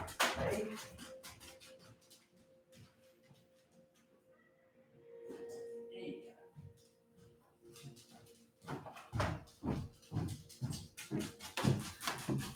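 A dog panting in quick rhythmic breaths, loud and close at the start and again toward the end, with a quieter stretch in between that holds faint whimpering and room noise.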